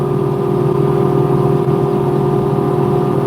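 A Kubota LX2620 HSDC cab tractor fitted with a Titan snow plow runs steadily at a constant engine note, a continuous close mechanical hum heard from inside the heated cab with no speech.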